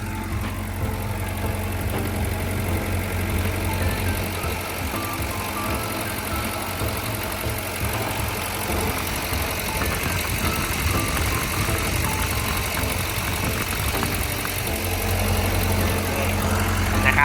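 A Komatsu PC120-8 12-ton excavator's diesel engine idles steadily with a low, rumbling knock, heard up close and continuous throughout.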